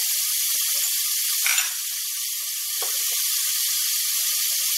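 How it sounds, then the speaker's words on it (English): Rinsed diced ham sautéing in a pan for Puerto Rican pink beans, a steady close hiss and sizzle with a brief swell and a faint utensil tap, no talking. "we want to go ahead and add that and begin sauteing it"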